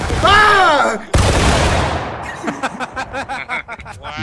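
Musket volley fired on command in a multiplayer video game, a sharp crackling burst of many shots at once that rolls into scattered echoing pops, after a shouted command.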